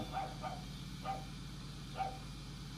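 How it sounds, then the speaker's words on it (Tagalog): A dog barks several times in short, separated yaps, fairly faint against a steady low background hum. "Nandito si Charlie, tinatahulan ako."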